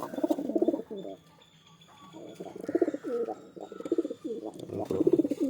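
Domestic pigeons coo nearby in repeated throaty, rolling phrases with short pauses between them, fairly quiet, along with a few faint chirps in the background.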